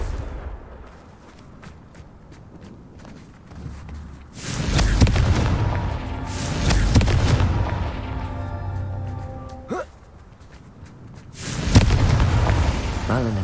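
Explosive blasts from the Confringo fire spell in the video game Hogwarts Legacy, a series of loud booming bursts rising out of a low rumbling background, with one heavy burst and then another later, over a quieter stretch of game ambience.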